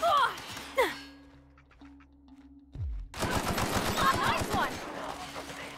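Gunfire in the video game The Outer Worlds, a burst of rapid shots breaking out after a quieter stretch, dense and loud, with a brief voice and game effects earlier in the clip.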